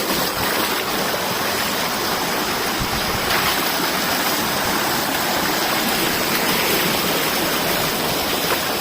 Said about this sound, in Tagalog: Magbabago na naman yung agos ng tubig dito.